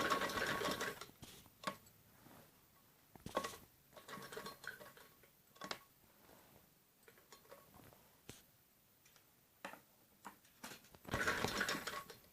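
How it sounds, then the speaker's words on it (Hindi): Sewing machine stitching piping onto a kameez piece in short, intermittent bursts of mechanical whirring, fairly quiet and close, with pauses between runs and no talking. "ऐसे ही हम दूसरे पीस पे भी सिलाई लगा लेते हैं।"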